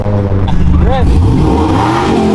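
A car engine revs briefly on a downtown Houston street, with a quick rise and fall in pitch, while people talk nearby over the engine.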